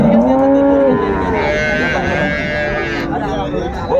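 A cow moos loudly and repeatedly at a cattle market in Raniganj, Dinajpur, where dairy cows and calves are sold, its long, drawn-out calls rising over a continuous bustle of crowd chatter and market noise.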